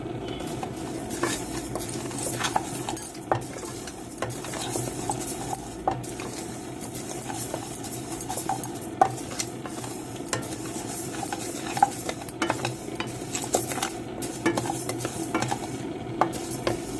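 Raw rice being dry-roasted and stirred in a pan for a Shivaratri offering, a steady close scraping and rustling of grains with light sizzle and occasional utensil clinks, continuous and alone without talk.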